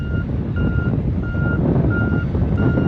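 Steady repeating backup-style beeps ring out loud and close from an autonomous tractor, pulsing evenly over a constant low engine rumble.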